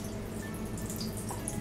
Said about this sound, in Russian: водопадик